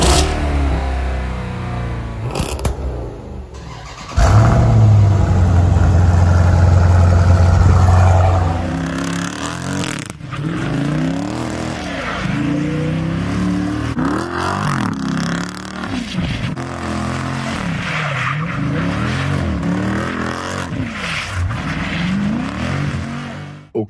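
A car fitted with an aftermarket exhaust revs hard and loud, the engine surging and dropping repeatedly in a long series of throaty rises and falls, with a brief steady idle hum early on.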